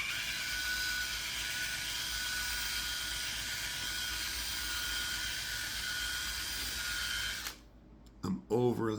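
A drill-driven buffing wheel whirs steadily against automotive clear coat with light pressure, a loud continuous high-pitched spinning hum for most of the clip before cutting off near the end, followed by brief clicks.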